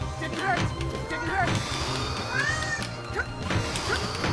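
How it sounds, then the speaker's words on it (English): A cat meows several times in short, scattered cries while a person talks and some clattering noises occur nearby. "We are very glad that you could meow."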